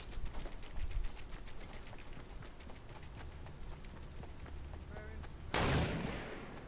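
Rapid gunfire in a Fortnite match, a steady stream of sharp, fairly distant shots in quick succession, ending in a louder burst near the end, with a voice talking underneath.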